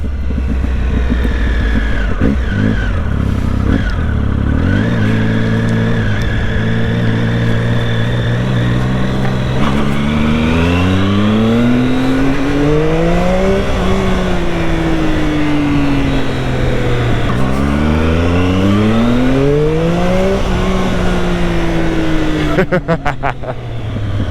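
A car engine about a decade old revs repeatedly nearby, its pitch climbing and falling in long sweeping runs, loud and continuous throughout the whole stretch.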